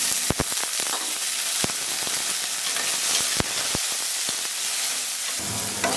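Lentil bori dumplings and green peas fry in a little oil, giving a steady close sizzle broken by sharp popping crackles and spatters.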